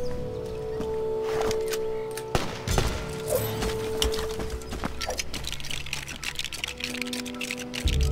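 Shots ring out in the Lego Jurassic World game as a string of sharp, clicky pops spread across several seconds, some in quick bursts, layered over game music and background effects.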